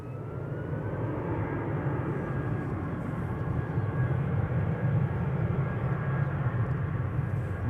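A Vueling jet departs Amsterdam Schiphol for Barcelona with a sustained, broad engine roar that swells slightly as it continues.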